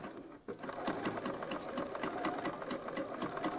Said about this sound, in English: We're just going to do a straight stitch here and keep your needle in the needle down position. Set off sewing.